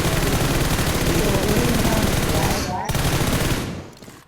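Rapid automatic gunfire in the mobile battle royale game PUBG Mobile rattles loudly and continuously for about three seconds, breaks off briefly, then resumes before fading out.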